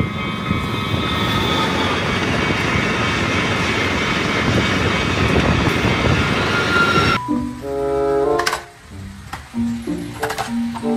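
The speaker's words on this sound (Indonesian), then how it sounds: "kereta api cepat" A fast train roars past with a heavy, broadband rush for several seconds, then cuts off into quieter mixed sounds and tones.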